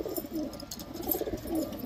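Pigeon cooing at a Madras kabutor pigeon breeder's home, two soft low coos about a second apart, faint beneath a quiet room background.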